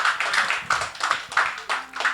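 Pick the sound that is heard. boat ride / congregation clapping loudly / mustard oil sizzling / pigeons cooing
congregation clapping loudly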